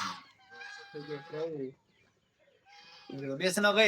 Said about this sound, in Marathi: त्याचं नाव आपलं टर्की ऑस्ट्रेलियन कोंबडी आहे ती